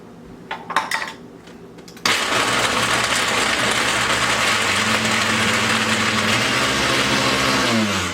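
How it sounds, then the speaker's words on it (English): A few light clinks, then a blender starts abruptly and runs loud and steady, blending smoked peppers, onions and garlic for salsa, its whir shifting slightly in pitch as it churns. "I'm going to throw all these in the blender."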